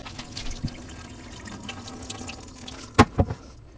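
Starchy rinse water being poured out of a pot of washed rice while making teriyaki vegetable chicken, a soft continuous trickle ending in a few louder splashes and drips near the end, with no talk.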